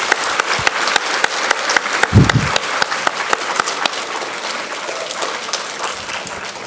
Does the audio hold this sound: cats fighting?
no